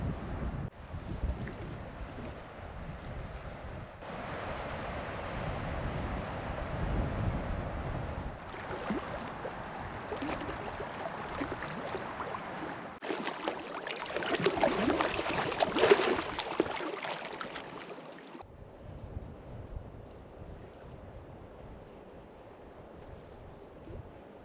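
Wind gusting over a lake in the Boundary Waters wilderness during a solo canoe trip, a steady rushing roar with broadband surges that swell loudest midway, then ease into a calmer hiss; no talking.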